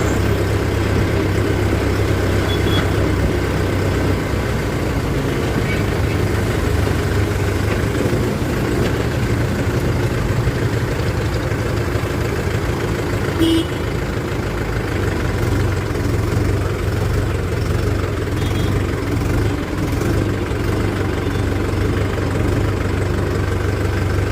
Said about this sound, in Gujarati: અને ટ્રેક્ટર પાર્કિંગ કરી દીધું